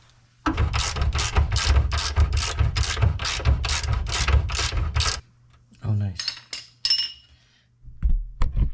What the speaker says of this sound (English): release the tension from the arm by removing this big nut